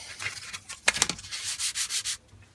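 Knife scales being sanded by hand with 40 grit abrasive, a series of short rough scraping strokes, close and fairly quiet, with brief pauses between rubs.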